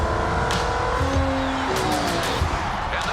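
Race cars roar and tyres squeal on track at the 24 Hours of Le Mans, a dense, loud engine wash with passing cars and skids running steadily throughout.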